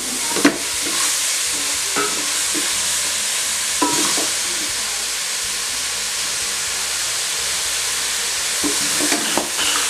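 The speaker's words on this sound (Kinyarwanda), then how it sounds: "Urakomeza ukavanga" Meat and spices fry loudly in a pot with a dense, continuous sizzle. Occasional stirring clatters of a utensil against the pot sound close by.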